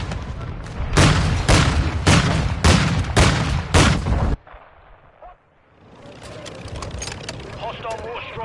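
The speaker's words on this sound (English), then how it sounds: "Hostile mortar strike in the area." Mortar strike explosions in Modern Warfare 2, six heavy booms in a roughly even rhythm, loud and near, giving way to quieter battle noise and radio-style speech.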